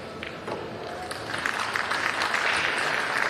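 Audience applause after a point at a professional pool match at the Puerto Rico Open, a fairly thin, steady patter of clapping lasting a few seconds with faint crowd murmur beneath.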